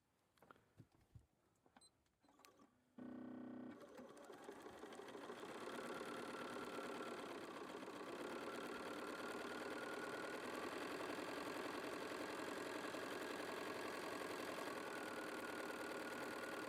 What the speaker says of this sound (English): sew a 1/4 of an inch on each side of this line as soon as my machine comes on